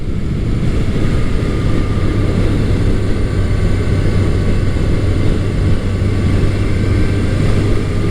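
A Honda CB750 Nighthawk motorcycle engine drones steadily while riding, a constant loud hum mixed with rushing wind noise, unbroken for the whole stretch.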